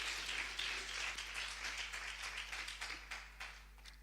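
A church congregation applauds during a Spanish-language sermon, a steady wash of many hands clapping at moderate distance, sustained for the whole stretch and slowly thinning toward the end, with a low hum underneath.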